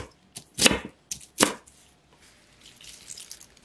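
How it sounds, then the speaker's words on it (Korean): A knife slices through stacked inner cabbage leaves on a cutting board in a home kitchen, making a few sharp crisp chops close up, followed by softer rustling of the leaves. "속 잎들도 모아서 썰어주시고요."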